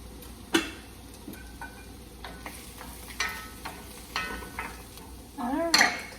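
A sauce of onions, garlic and mushrooms cooks in a pan with a soft low sizzle under intermittent clinks and scrapes of utensils and cookware, fairly quiet and close.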